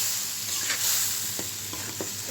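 Ground spices, chili powder, ginger, onion and garlic paste with salt fry in a pan, a soft steady sizzle broken by a few light scraping stirs, close and fairly quiet with no talking.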